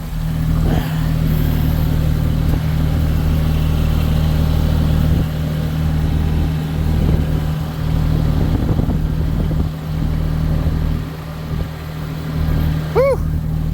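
A four-wheel-drive vehicle's engine drones steadily as it drives along, a loud close hum with wind buffeting and some rumble, no talking over it.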